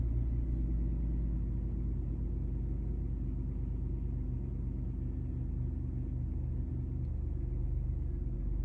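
An older car's engine running at a steady idle: a low, continuous, even rumble, close and loud throughout, with no talking.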